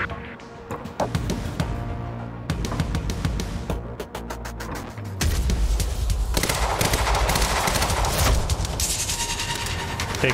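Rapid gunfire rattles in bursts during a firefight in the video game Quantum Break, with sharp repeated shots, then a denser, louder stretch of sustained shooting and impacts.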